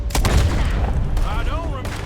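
Gunshots in Red Dead Redemption 2, a few sharp reports early on amid busy game action, with voices speaking through the clip.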